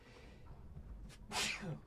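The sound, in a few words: sneeze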